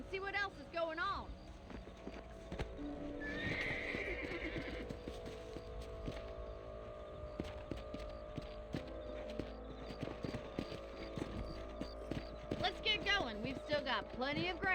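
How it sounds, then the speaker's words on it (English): Horses in the Red Dead Redemption video game clip-clop steadily and whinny loudly at the start and end, with voices talking over the hoofbeats. "Let's get back on the horses and see what else is going on."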